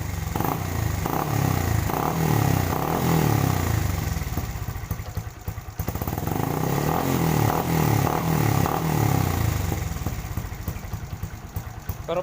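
Motorcycle with an Apido powerpipe exhaust and silencer fitted on a Street GP build, revved in repeated throttle blips that swell and fall over a rough idle, loud and close throughout.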